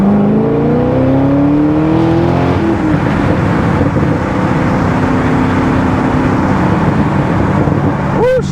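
A Corvette C6 Z06 with its LS7 V8 engine revs loud and close while driving, a sustained throaty roar rising in pitch early on, with wind rush throughout.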